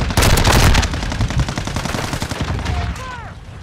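An MP5 (Lachmann Sub) submachine gun fires in Call of Duty: Modern Warfare 2, with a loud rapid automatic burst up front and continued fast shots that thin out toward the end.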